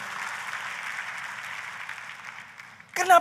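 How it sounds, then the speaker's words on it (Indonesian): A church congregation applauds in a broad, steady wash of clapping that fills the room, then a voice breaks in loudly near the end. "Tepuk tangannya yang paling meriah buat Tuhan kita"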